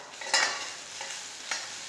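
Onions stirred in a frying pan with garlic and chili paste for a potato fry, with a few scraping stir strokes over a soft, steady sizzle and no talking.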